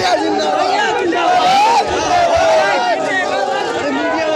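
Dense crowd of supporters thronging around someone, loud continuous shouting and chatter with overlapping voices and occasional raised cries close by.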